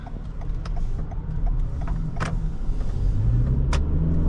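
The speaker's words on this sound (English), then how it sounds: "you can hear when the engine kicks in" Steady interior rumble inside a 2023 Toyota Sienna LE Hybrid minivan, with a low engine drone that rises and thickens partway through as the engine kicks in, plus occasional small clicks and knocks.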